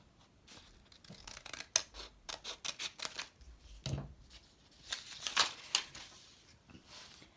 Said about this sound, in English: So now cut the rectangle off.